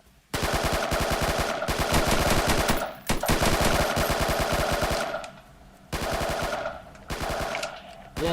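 Sustained bursts of automatic gunfire in a military shooter video game, loud and rapid, with brief pauses between long strings of shots and no talking over them.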